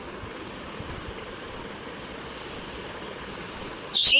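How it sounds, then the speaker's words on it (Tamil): A train sits stopped at a station in the Red Dead video game, giving off a steady, even rumble that holds throughout before a brief sharp burst near the end. "ஏன்டா அங்க நிறுத்தி வச்சிருக்க ட்ரெயினை?"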